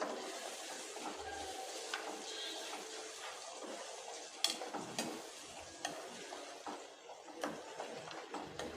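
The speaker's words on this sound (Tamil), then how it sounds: "இப்போ இதை நல்லா கலந்து விட்டுறலாம்" Steady scraping and stirring of tomato paste with salt in a pan for tomato thokku, with a soft sizzle underneath, small clinks of the spoon now and then, no talking.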